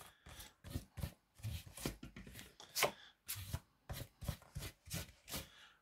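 Brush spreading glue across a surface, a series of close, soft scratchy strokes in an uneven rhythm, each swipe rising and fading, with no talk over it.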